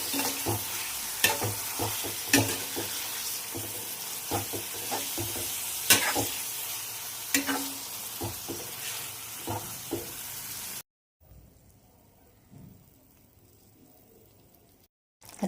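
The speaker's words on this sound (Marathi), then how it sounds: "खिमा टाकून झाल्याबरोबर मी चवीनुसार मीठ टाकून घेते आणि छान आता मी परतून घेते ह्याच्यामध्ये मसाल्यांमध्ये" Chicken keema sizzles and fries with spices and salt in a pan, with repeated scraping stirs over a steady hiss, then drops to a quieter low simmer near the end.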